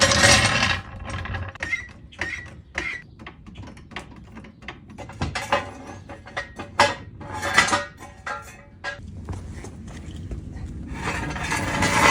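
A ratchet snugs the lug nuts on a Trans Am WS6's Weld Racing S71 wheels in a star pattern, with bursts of quick clicking separated by clinks and handling noise, close and without talk.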